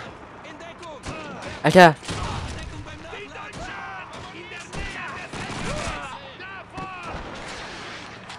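World War II gunfire in Call of Duty 2, with a sharp loud burst of shots near two seconds and scattered fainter reports afterward, under frequent excited talking from a German-speaking player.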